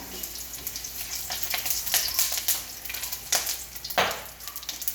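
Ginger sautéing in a pan, a fairly quiet ongoing sizzle broken by irregular scraping and stirring bursts, one sharper clatter near the end. No talking.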